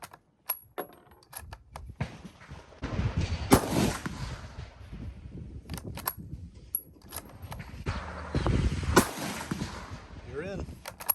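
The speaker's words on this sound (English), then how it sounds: "I had to take this Chilean Mauser and just see how accurate it was." Sharp rifle reports from a Chilean Mauser ring out at an outdoor range, several cracks spaced apart alongside other distant shots, mixed with scattered clicks and handling noise.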